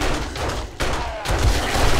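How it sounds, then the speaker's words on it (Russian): A zombie blows up in the survival game 7 Days to Die, a loud rumbling blast with a sharp cut midway and a second heavy burst, dense and booming throughout. "Зараза, взорвался все-таки."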